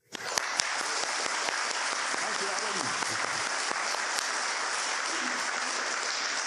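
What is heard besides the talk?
conference audience applause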